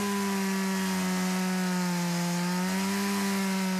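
A Stihl MS-170 chainsaw runs steadily in a TV advert, its engine whining loud and close with a steady pitch that dips briefly and then recovers, with no voices.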